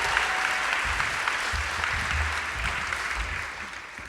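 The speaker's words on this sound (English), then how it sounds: "a big round of applause as she comes up" A big round of audience applause at a 2020 Hall of Fame induction event, steady dense clapping throughout that fades slightly at the end, with no talk.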